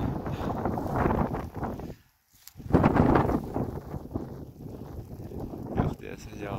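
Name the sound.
wind and rain outdoors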